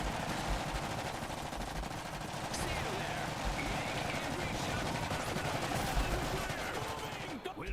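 Sustained gunfire from a machine gun crew being moved up in the Iron Harvest strategy game, loud rattling bursts layered with battle noise and explosions, continuous throughout with no talking.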